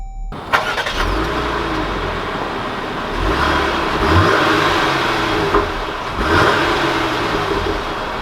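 A 2020 Jeep Grand Cherokee High Altitude engine catches near the start, then hums at a steady mid-pitch while moving, swelling in a few accelerating surges. It is heard close and alone, without talk.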